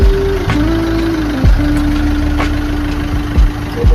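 A vehicle engine idles close by on arrival, a steady low rumble with a held tone that dips in pitch a few times, loud and alone without talk.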